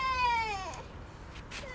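A small rescued cat meows in a long, drawn-out, crying tone, fairly quiet and close, then gives a few faint follow-up sounds against a steady outdoor background.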